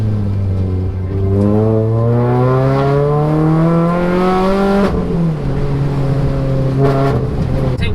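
A road-legal Renault Clio rally car engine revs hard and climbs steadily in pitch toward about 7,000 rpm, then drops sharply with a quick heel-toe blip and settles into a lower drone, loud and close, no talk.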